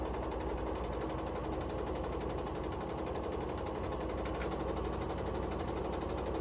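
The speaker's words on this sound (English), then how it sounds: "I'm going to go sew that line there. 1/4 inch, not an 1/8" A sewing machine hums and clatters continuously at steady speed while stitching a quarter-inch quilt seam on layer cake fabric, close and even throughout with no talk.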